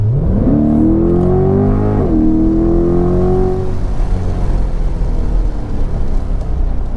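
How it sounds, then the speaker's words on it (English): A convertible car engine revs up through the gears with the top down, its exhaust note rising in pitch twice before settling into a steady rumble. "I love the fact that with the top down, I can hear the exhaust more"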